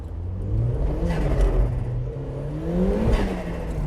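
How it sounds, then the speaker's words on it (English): A turbocharged Mk1 Mazda MX-5 drives past, its small engine droning and swelling under throttle with a faint turbo whir, rising in two surges over a few seconds, fairly close and with no talking. "I knew the turbo would be audible"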